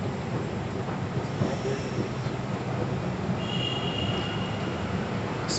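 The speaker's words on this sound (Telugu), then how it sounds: "స్పీడ్లో స్లో అవుతుంది మెట్రో" Bangalore metro train decelerating, a continuous close rumble of wheels on track with faint high squeals as it slows, no talking.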